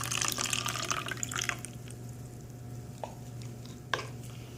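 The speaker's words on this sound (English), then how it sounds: "now I'm just going to drain out the water, the Ricochet water." Water drains out of a container after washing tomatoes, a continuous soft trickle and splash with a few sharper drips and clinks, set against a steady low background hum.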